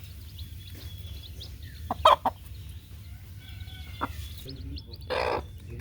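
A hen and her small chicks pecking at fine starter feed on a small village farm give a few short, sharp clucks and peeps, scattered and brief over a low steady hum.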